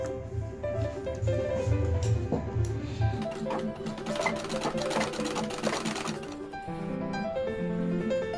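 A freshly repaired home sewing machine stitches a folded rug edge, its fast mechanical whir and needle clatter running steadily and close up, shifting pitch partway through.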